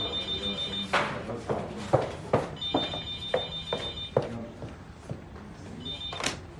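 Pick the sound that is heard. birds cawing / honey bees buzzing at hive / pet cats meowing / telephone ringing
telephone ringing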